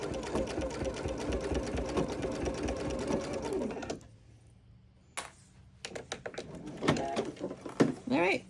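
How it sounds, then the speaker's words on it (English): A sewing machine stitches a quarter-inch seam on a towel, running in a fast, close, even whir for several seconds, then stopping, followed by handling clatter and short bursts while someone talks nearby. "Just keeping that 1/4 inch seam allowance, taking the pins out so we don't sew over them."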